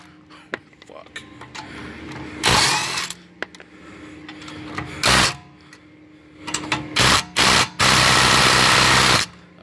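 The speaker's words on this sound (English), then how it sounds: "put this brushless Ryobi P238 impact driver to the test to see if it could break some lug nuts" Brushless Ryobi P238 impact driver breaking loose lug nuts, heard as several loud, harsh hammering bursts of varying length, the longest near the end, separated by quieter stretches with a person talking.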